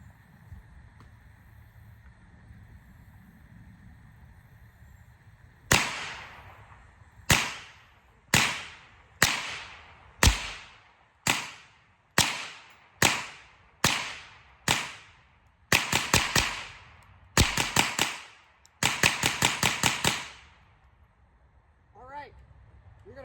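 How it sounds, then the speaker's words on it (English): A Smith & Wesson M&P 15-22 rifle firing .22 LR rounds outdoors: a string of crisp, cracking shots, first spaced about a second apart, then faster bursts near the end, over quiet background hum. "We're gonna put 25 more rounds through just to see if we get any reliability issues. 25 rounds, 22 LR out of the 15-22."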